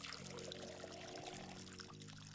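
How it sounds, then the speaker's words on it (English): A watering can pours water in the video game Schedule I, a steady continuous splashing stream lasting a couple of seconds over a low hum of game ambience, with no talking. "And let's pour some water here."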